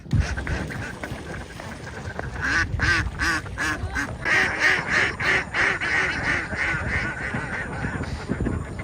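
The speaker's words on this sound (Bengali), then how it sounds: "সকাল যখন হলো তখন হাঁসের ডাকে ঘুম ভাঙল আমাদের পাশেই একটি বিশাল হাঁসের খামার" A large duck farm beside the Chalan Beel wetland gives off a chorus of repeated quacking calls that grows busier midway, with a low rumble of background noise underneath.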